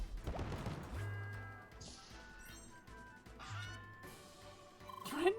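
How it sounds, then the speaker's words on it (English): Harsh squawking and honking bird cries from the video game CrossCode, several bursts scattered across a busy game soundscape with a crashing hit at the start and electronic tones. "Threatening bird noises."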